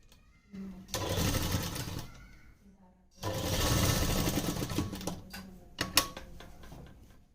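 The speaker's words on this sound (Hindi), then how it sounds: "इसको सिलाई लगा देनी इसके ऊपर" A sewing machine runs in two steady stitching bursts and a brief final run, topstitching a trouser pocket, with quiet pauses between the runs.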